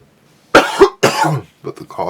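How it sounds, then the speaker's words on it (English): A person coughs several times in quick bursts while sanding a polymer clay rat, close and loud, followed by softer throat-clearing sounds. "But the coughing, I know, is difficult on the speaker there."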